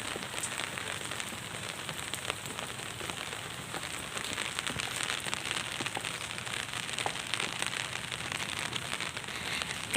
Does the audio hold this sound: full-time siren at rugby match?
no